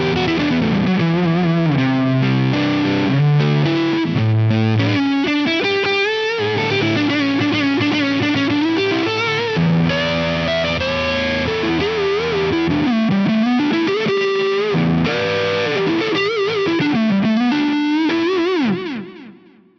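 Overdriven electric guitar through a JTM45 amp with the drive turned up and tone down, thick saturated riffs and bending lead lines played continuously, loud and alone until a final cutoff.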